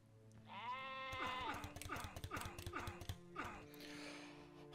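Sheep bleat repeatedly in Královna jezer, a 2007 Czech adventure game by Ane-Arch and Avrix: several loud, wavering bleats in a row, mixed with sharp mechanical clicks and a low steady hum.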